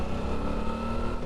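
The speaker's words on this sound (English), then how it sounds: "2007 Suzuki 650 V Strom in second gear" A 2007 Suzuki 650 V-Strom motorcycle riding in second gear, its engine a steady, continuous drone with road and wind noise, heard close and alone for a brief moment.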